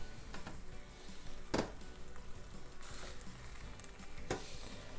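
Cottage pie mince filling sizzles and fries in a pan while being stirred, a quiet continuous crackle punctuated by a few sharper scrapes and clatters of the spoon against the pan.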